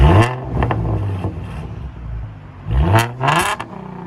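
Ford Mustang with a 3.7L V6 and true dual exhaust with an X pipe revs twice, each blip a sharp loud rise and fall with a rumbling idle between.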